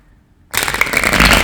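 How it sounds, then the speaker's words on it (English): Tarot cards being shuffled by hand: a quiet pause, then a sudden burst of steady, dense riffling and flapping that goes on close and loud to the end, with no talking. "So, I'll go ahead and shuffle a few and begin"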